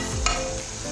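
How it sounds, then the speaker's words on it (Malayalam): Shallots, garlic and ginger frying in a pan for a Kerala prawn curry, a steady close sizzle with one quick scrape of stirring, no voices. "ഇപ്പോൾ നമ്മുടെ ചെറിയ ഉള്ളിയും വെളുത്തുള്ളിയും ഇഞ്ചിയും എല്ലാം നല്ലതുപോലെ ഫ്രൈ"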